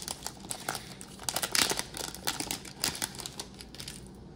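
Crinkly foil wrapper of a Topps Chrome baseball trading card pack torn open and crumpled by hand, close and fairly loud, with continuous rustling and a sharper burst partway through.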